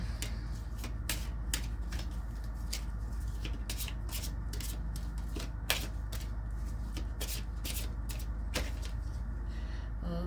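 Oracle cards are shuffled and drawn by hand, making soft riffling rustles and scattered sharp card flicks and taps over a steady low background hiss, with no speech.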